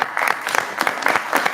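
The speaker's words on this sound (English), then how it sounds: "So I would like to just give her a round of applause real quick." Applause from the audience at a police commissioners' board meeting, a steady patter of many hands clapping at close range for about a second and a half, with no voices over it.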